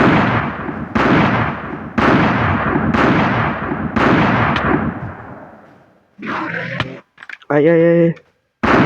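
Gunfire from a guns mod in Minecraft, five loud booming shots about a second apart, each fading into a long decaying tail, followed by a voice speaking briefly.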